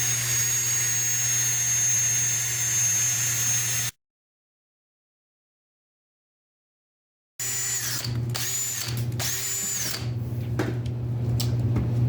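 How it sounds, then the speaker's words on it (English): A cordless drill with a mixing attachment churns epoxy resin, a loud steady whine and drone that cuts out abruptly for a few seconds of silence, then resumes with some rattling and speed changes. "after a quick battery change on the drill, we got 5 minutes of mixing"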